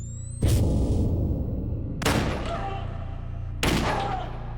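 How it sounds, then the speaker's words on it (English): Three loud 9mm pistol shots ring out about a second and a half apart, each a sharp broadband blast with a long decaying tail over a steady low hum. "I don't know anyone who could sleep through a 9mm gun being fired multiple times"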